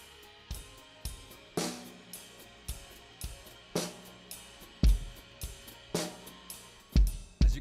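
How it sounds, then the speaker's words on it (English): Drum kit groove with an offbeat hi-hat played by the left foot, punchy kick and snare hits in a steady repeating pattern with heavier accents near the end, played alone. "keep the time with an offbeat hi-hat on our left foot"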